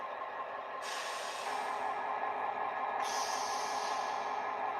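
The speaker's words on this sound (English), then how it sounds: "I always turn the brake volume up because I just like that sound" A model train's air brake sound effect hisses continuously at a steady level, with the hiss rising in brightness twice, under a low hum.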